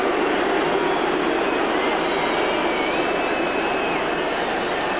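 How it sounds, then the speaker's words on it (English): A large football crowd boos a pitch invader carrying a flag at an England versus Macedonia match, a loud, sustained roar of jeers filling the stadium without a break. "somebody's come on the pitch with a flag and he's being roundly booed."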